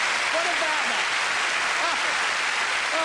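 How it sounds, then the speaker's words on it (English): A studio audience on a game show applauds loudly and continuously, a broad wash of clapping with a few faint voices and cheers rising briefly through it. "Round of applause, Melvin."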